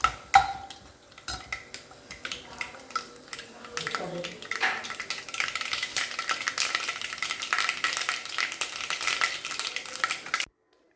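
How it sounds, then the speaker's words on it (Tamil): Mustard seeds and lump asafoetida splutter in hot oil for a mango ginger pickle tempering. Scattered clinks of utensils come first, then dense crackling and popping builds and holds until it stops abruptly. "இப்போ கடுகு பெருங்காயம்லாம் நல்லா பொரிஞ்சிருச்சு"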